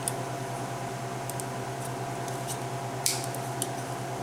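Cutters trim a plastic part of a Bruder bulldozer model, giving a few faint sharp clicks and snips over a steady background hum.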